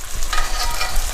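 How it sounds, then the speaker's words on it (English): Ribeye cap steaks sauté in butter and garlic in a cast iron pan, giving a loud, close, continuous sizzle and spatter with no talking. "I do want to make sure I'm sauteing the heck out of these with the butter and the garlic"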